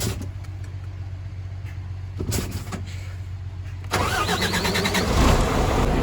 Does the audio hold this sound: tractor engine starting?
yes